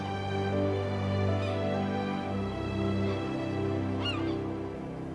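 Seagull cries from the video game Rime ring out over a steady low ambient drone, a couple of short squawking calls rising above the game soundscape.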